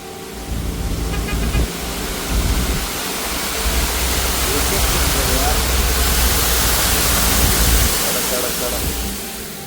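A continuous roar of a monsoon waterfall in the hills near Nanemachi fills the whole clip, broad and steady, with faint voices buried underneath.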